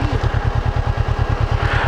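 A motorcycle engine runs at a steady idle on a Himalayan mountain road in Ladakh, its low pulsing thump loud, close and even throughout.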